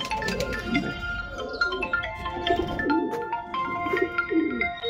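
Madrasi racing pigeons, prize-winning birds kept at a home loft, coo repeatedly close by, soft throaty rolling calls overlapping one another in a steady series.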